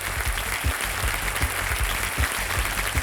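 Applause from a studio audience at a KBC 2025 quiz show, greeting contestants with sustained, even clapping that carries steadily throughout, no voices over it.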